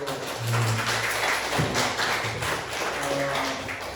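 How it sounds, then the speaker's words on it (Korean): Applause from a church congregation at a Sunday service after a violin, viola and piano performance, a dense patter of clapping over low voices for about four seconds. "우리 다시 한번 좀 박수로."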